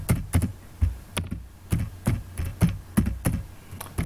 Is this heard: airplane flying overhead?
no